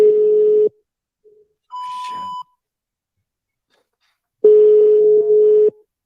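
An outgoing telephone call rings back in two long, steady electronic tones, separated by a short higher beep and a gap of silence.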